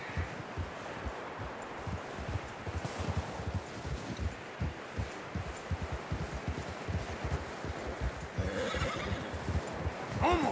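Horses from the Red Dead Redemption 2 game whinny and clop along over a rustling outdoor bed, hoofbeats steady throughout and a louder neigh rising near the end.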